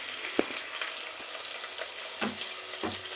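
Onions hit hot oil in a pan with a steady crackling sizzle, punctuated by a few soft knocks and stirring scrapes, close and moderately quiet with no voices.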